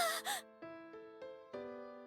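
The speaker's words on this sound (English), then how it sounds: "I gasp." A character in the visual novel Remember11 lets out a sharp gasp, followed by a few soft, sustained tonal music notes fading in the background.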